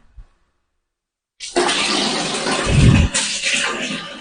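Silence, then a tap is opened after a water interruption in southern Manila and water gushes steadily and loudly, with a brief surge in the middle before settling into a constant rushing stream.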